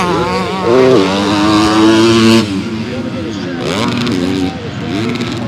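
Motocross motorcycle engines rev and snarl in bursts at the Motocross des Nations at Matterley Basin, rising and falling in pitch, with an excited commentator talking over them.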